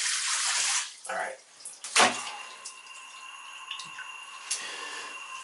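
Water runs off a First Tactical Tactix 1-Day Plus backpack during a water resistance test: a loud spraying hiss cuts off, then gives way to faint trickling and scattered drips with a few small knocks.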